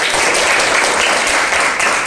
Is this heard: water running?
no